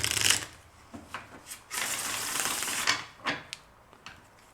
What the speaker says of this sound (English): Wait, I will first shuffle.